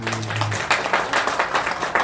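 Audience clapping at a Santé Barley Grass network-marketing business presentation, a brief round of moderate applause from a seated crowd with a faint held tone at the start.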